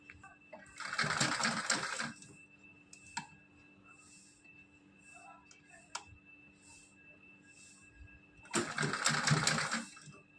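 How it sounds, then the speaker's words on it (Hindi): Sewing machine stitching fabric in two short whirring runs, near and fairly loud, separated by quiet handling clicks. "इस पर सिलाई लगा लेंगे।"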